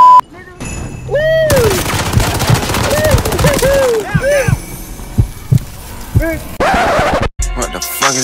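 Shotgun blasts from a double-shotgun loadout in the video game Warzone, loud sharp shots scattered among other game effects and chirping sounds, with a voice talking over the action.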